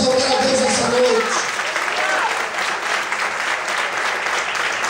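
A church congregation applauds loudly and steadily, a thick, continuous roar of many hands clapping that fills the space. A voice speaks over it briefly at the start.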